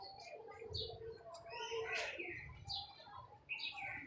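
A pigeon held in the hand gives soft coos and chirps at close range, several short calls scattered over a few seconds, with faint speech in the background.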